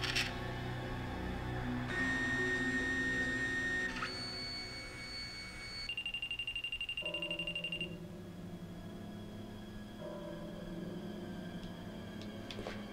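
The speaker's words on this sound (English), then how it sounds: "Yeah, old school 3D printer." Old-school 3D printer in Resident Evil Code Veronica X running through a sequence of steady electronic tones and whirring mechanical hums, shifting pitch in stages over about thirteen seconds, with no talk over it.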